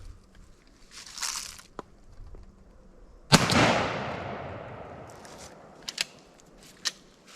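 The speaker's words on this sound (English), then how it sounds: "at 30 yards, I'm going to shoot right here at the base of the neck" A turkey shotgun fires a Nitro Turkey 20-gauge load at a target 30 yards away. One sharp, loud blast comes midway and its echo trails off, with a few faint clicks and knocks before and after.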